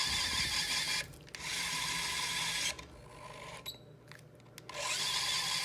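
A KDS electric screwdriver with an integrated torque transducer runs in steady bursts of loud whirring, separated by brief pauses and a few clicks as the driver stops and starts.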